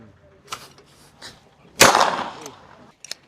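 A single sharp, loud bang from a powder-actuated hand tool driving a nail into steel cracks out after some quiet movement, its echo ringing briefly before a faint click.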